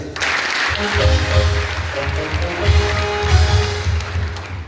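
Church congregation clapping in worship, a steady rhythmic patter over low droning instrumental tones and sustained organ-like notes, fairly loud and continuous.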